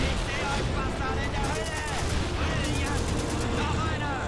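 Dense, continuous gunfire from the World War II shooter Call of Duty 2, a steady rattle of shots at even loudness throughout, with a voice talking over it.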